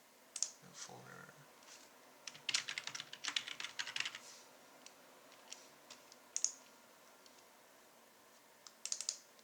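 Keys clicking on a computer keyboard in bursts of fast typing with short pauses between, close and fairly quiet.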